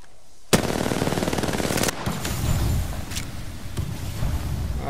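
Close, loud automatic gunfire in Apex Legends, a rapid rattling burst of about a second and a half followed by scattered shots and a few sharp single cracks in a busy game soundscape.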